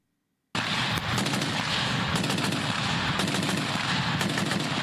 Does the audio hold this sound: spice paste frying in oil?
no